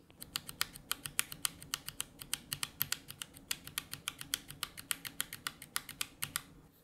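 Typing on an ASUS ROG Strix Scope RX TKL Wireless Deluxe keyboard with RX switches and no keycaps gives a fast, regular stream of sharp, close clacks.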